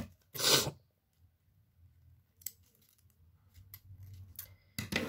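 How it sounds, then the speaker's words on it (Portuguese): Scissors snip through satin ribbon with one crisp close cut, then quiet handling rustles and a few faint snips over low room hum; no talking. "Deixa eu cortar aqui."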